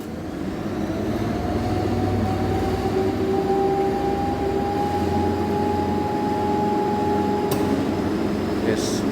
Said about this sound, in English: Motor is started with the help of the starter, 3-point starter.